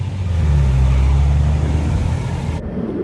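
A city bus engine idles and runs with a deep, steady rumble close by, holding level for a few seconds before the sound cuts off abruptly.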